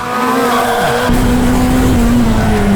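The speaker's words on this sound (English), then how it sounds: "Oh, we've had a collision there." Race cars in a loud on-track collision, engines droning at high pitch as tires squeal and skid, with a sudden jolt of broadband noise as the impact lands and the engine note keeps wailing after.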